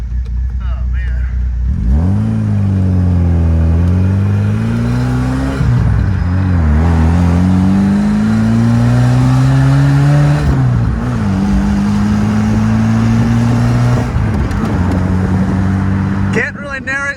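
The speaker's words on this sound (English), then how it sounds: "Let's see if that exhaust note picks up on my terrible audio." A 1982 Fiat Spider 2000 Abarth convertible's engine and exhaust note rise and fall loudly and up close through several gear changes, droning steadily with the revs climbing between shifts.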